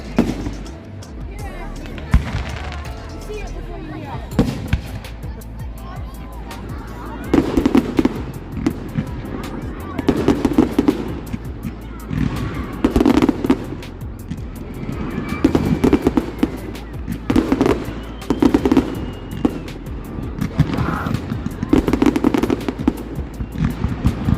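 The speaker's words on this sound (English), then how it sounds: "And this was the end with all the beautiful fireworks." Fireworks explode repeatedly at a distance, a rapid crackling and popping barrage with louder booms, while people talk in the background.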